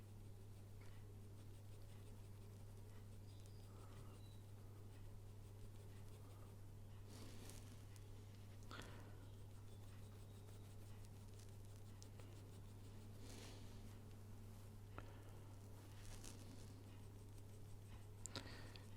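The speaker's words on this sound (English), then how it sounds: "I'm going to start removing it with the kneaded eraser, and then possibly the pencil eraser" A kneaded eraser and pencil work over paper while drawing, making faint, sporadic scratching and rubbing strokes. The strokes are quiet against a steady low electrical hum, and there is no talking.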